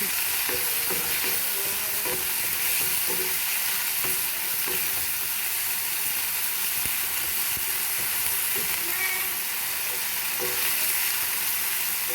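Chicken pieces for homemade shawarma fry and are stirred in a pan, producing a loud, dense, unbroken sizzle with soft scraping movements throughout.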